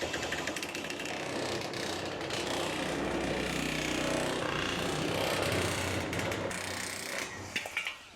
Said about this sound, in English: This is a nibbler.